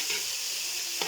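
Onions fry in a pan while rice with vermicelli and peas is being cooked, giving a steady, bright, close sizzle that runs unbroken with a faint stir near the end, and no one speaking.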